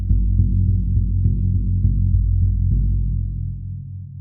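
A 22-inch bass drum is struck repeatedly at a steady pace, each deep, booming thump ringing into the next, then the last hit decays alone.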